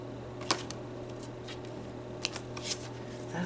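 Tarot cards are shuffled close up in a quiet room, giving brief soft riffling snaps and flutters spread out over a low steady hum.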